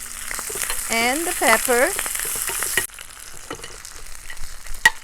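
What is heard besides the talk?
green onion and pepper frying with okra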